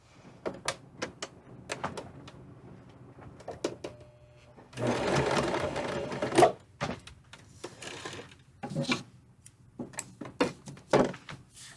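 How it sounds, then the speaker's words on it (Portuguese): A domestic sewing machine stitches a fabric cosmetic pouch, with several short bursts of close, rattling needle action and one longer sustained run in the middle, separated by brief handling clicks. "E vou fazer uma costura nesse sentido de 2 pontinhos apenas."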